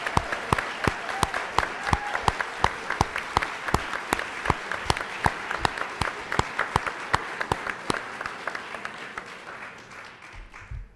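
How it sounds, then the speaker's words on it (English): An audience at an art exhibition awards evening applauds the artists, a sustained round of clapping from a roomful of people with crisp, distinct claps up close, gradually thinning and fading out near the end. "applaud your work."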